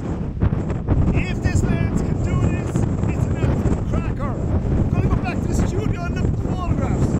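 Heavy wind buffets the microphone in a constant low roar while someone speaks underneath, with occasional gusty surges.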